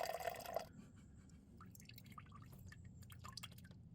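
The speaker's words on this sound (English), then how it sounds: "drain the tank using gravity as much as possible" Water drains by gravity from the tank of a teardrop camping trailer, a steady low trickle with scattered drips and splashes running throughout, faint and continuous with no talking.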